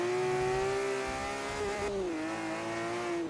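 A TVR Sagaris engine in Forza Horizon 3 holds a high, steady rev near the top of its range, a loud sustained buzzing drone that dips slightly midway and climbs again, with no talk.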